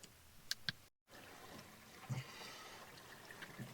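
Water from a bathtub faucet runs into the tub, a faint, steady splashing rush heard after a brief click and a short gap of silence.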